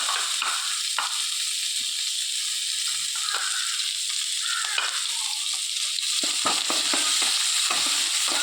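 Onion and ginger sizzle hard in leftover fish-frying oil in a wok, a continuous bright crackle broken by repeated scrapes and clinks of a stirring spatula, with no talk.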